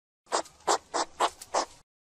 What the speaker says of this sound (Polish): Kiedy jeż się przestraszy, zwija się w kulkę, najeżoną kolcami i wydaje charakterystyczne dźwięki, podobne do sapania